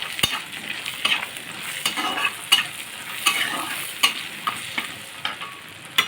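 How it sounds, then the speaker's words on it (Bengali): Crab frying with cumin powder and turmeric, stirred in a pan: a steady sizzle with regular scraping strokes of the spoon roughly every second, close and clear, no voices. "এর ভিতরে আমি দিয়ে দেবো জিরে গুঁড়ো সামান্য হলুদ এটাকে আমি আরেকটু নাড়িয়ে নেব"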